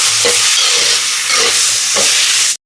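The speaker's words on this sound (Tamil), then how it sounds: "தக்காளி பழம் சேர்ப்போம். தக்காளி பழம் கொஞ்சம் வதங்கட்டும்." Tomatoes sautéing in a pan, with a loud, steady hissing sizzle and faint stirring knocks throughout that cut off abruptly at the end.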